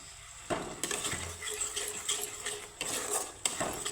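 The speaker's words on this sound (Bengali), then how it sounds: "তো মশলাটা আমার ভালোভাবে কষানো হয়ে গেছে" A spoon scrapes and stirs spiced pasta masala sautéing in a pan for butter garlic masala pasta, giving repeated close metallic clinks and scrapes over a soft background sizzle, with no talking.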